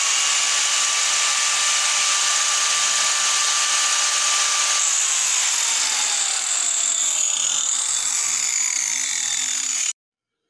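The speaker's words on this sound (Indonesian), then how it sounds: "akan kita tes bagaimanakah gerinda ini sudah bisa menyala apa belum" A repaired electric angle grinder runs steadily after being switched on, a loud, close high-pitched whine that holds for about ten seconds before cutting off abruptly.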